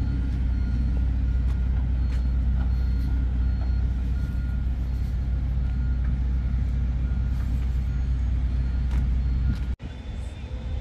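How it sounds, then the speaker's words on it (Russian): Road traffic on a city street by a construction site flows past in a continuous low rumble of cars, trucks and buses, steady and fairly close, cut by a brief dropout near the end. "Слева направо едет транспорт"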